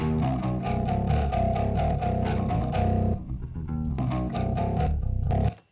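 Bass guitar run through a distortion unit called grit in a studio mix, giving a loud, gnarly, fuzzy tone with rhythmic chugging notes, a brief dip midway, then more playing before cutting off.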